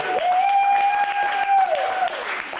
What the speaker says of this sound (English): Give me a round of applause for 1, 2, 3.